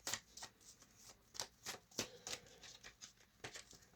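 A deck of tarot cards is shuffled by hand in quick riffling bursts, several crisp flutters in a row, close but quiet, with no talking.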